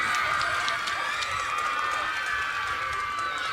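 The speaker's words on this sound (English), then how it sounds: "Let's give them another round of applause." A crowd at a drum line competition gives a steady round of applause and cheering for the New Hope High School drum line. Continuous, fairly distant clapping and crowd noise with no clear talk.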